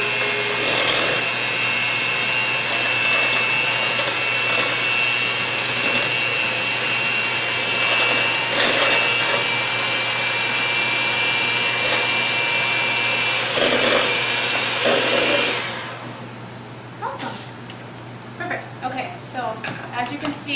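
Electric mixer whirring loudly and continuously while mixing egg, Greek yogurt and skim milk in a bowl, with faint clinks against the bowl, then shutting off, leaving quieter kitchen clatter.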